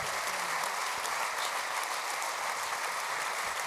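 A crowd applauds at the Premio Terzani award evening honouring journalists, with steady, even clapping that fills the hall at a constant level from start to finish.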